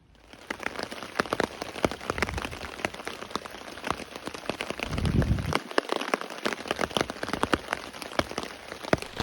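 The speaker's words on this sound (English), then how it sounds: "The rain is persistent now," Steady rain patters on a taut tarp, dense irregular drops tapping close by with no voices, and a brief low rumble partway through, at a woodland hammock camp.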